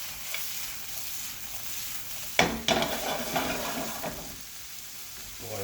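Aromatics sweating in a pan for Jamaican brown stew fish, a soft steady sizzle with a few sharp clatters of a utensil against the pan midway, close and alone.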